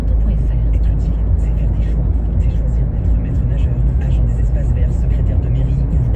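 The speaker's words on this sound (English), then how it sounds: "This is me just driving back." Steady low rumble of a car driving on a road, continuous engine and tyre noise throughout with faint higher sounds above, heard from inside.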